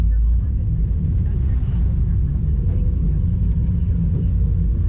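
A 2005 Rinker 232 Captiva open bow rider's engine runs under slow, steady throttle on the water, a constant low, loud rumble throughout with a voice talking over it.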